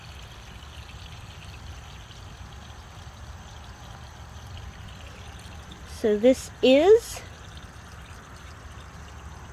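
Water poured into an overflow conduit in a passive water distribution setup: a couple of short splashing pours come near the end over steady background hiss, with a voice speaking briefly at the start.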